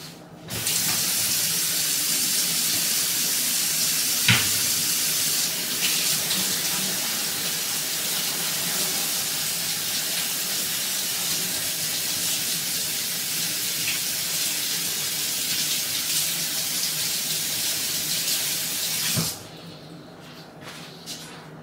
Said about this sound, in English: Clean the catch oil plate with hot water with some washing liquid and a non-abrasive sponge.